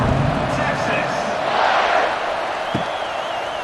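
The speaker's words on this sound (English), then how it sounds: "this crowd is buzzing after that last score" A stadium crowd in EA Sports College Football 26 buzzes steadily after a touchdown during Michigan Wolverines vs. Texas Longhorns, a dense, continuous roar of many distant voices with no single sound standing out.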